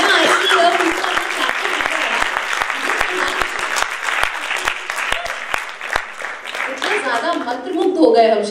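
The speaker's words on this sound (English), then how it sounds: "I see here people are clapping" Applause from the audience at the end of a talk session with a designer, a steady wash of many hands clapping with sharp individual claps standing out, fairly loud and continuous throughout.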